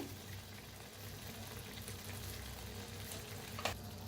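Eggplant and potatoes fry in spice masala, giving a soft steady sizzle and bubbling with one brief clink of a utensil near the end, close but quiet.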